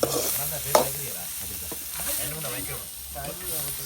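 Mutton intestine sizzles and fries steadily in its own rendered fat while a utensil stirs it through the pan, with brief scraping clinks over a continuous hiss; some faint talk sits underneath.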